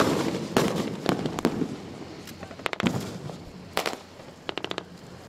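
Explosions and bursts of gunfire ring out during a military beach-landing drill on a northern coast, with sharp cracks and booms arriving in irregular clusters, some in rapid volleys, over a steady rumbling background.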